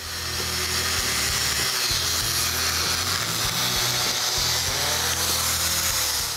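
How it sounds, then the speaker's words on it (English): An abrasive cutoff wheel grinding through a hardened axle shaft, a loud continuous high-pitched screech and hiss with a low motor hum and steady uneven grinding pulses, close and without talk. "you're going to want to use some sort of abrasive cutoff wheel"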